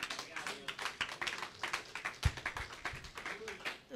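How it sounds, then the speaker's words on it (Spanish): A church congregation during a Spanish-language sermon gives scattered clapping, fairly quiet and uneven, with separate hand claps and taps mixed with voices talking. "Dar un aplauso"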